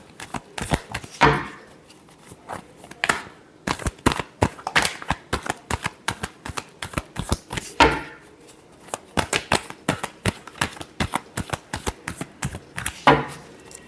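Tarot cards are shuffled close by in repeated riffling bursts, with crisp flutters and taps coming in uneven bunches and no talking.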